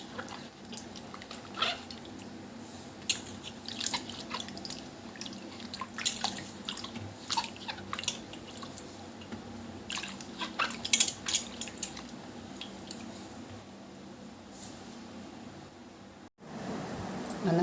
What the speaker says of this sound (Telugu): మామిడికాయలన్నీ ఇలా వాటర్లో వేసుకొని